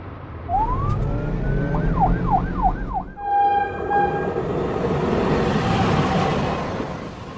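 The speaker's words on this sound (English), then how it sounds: "Police car." A police car siren wails, rising and falling in quick loud cycles over a rumbling engine and traffic noise. A steady two-tone horn and a broad whoosh of passing noise follow.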